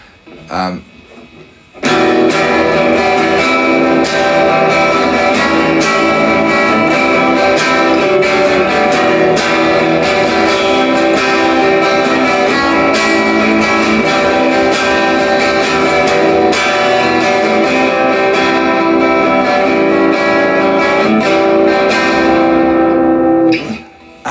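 A simple chord progression on an effected, reverb-heavy instrument, sustained chords changing steadily over about twenty seconds, loud and close with no talking.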